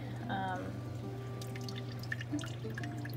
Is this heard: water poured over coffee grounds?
yes